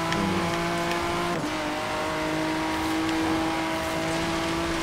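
A Lamborghini Huracan Squadra Corse engine in the racing game Forza Horizon 3 holds a steady, loud, high drone with sustained harmonic tones and a brief dip in pitch, with no talking.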